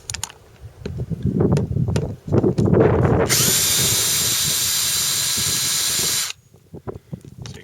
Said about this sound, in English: so I can get my screw gun in there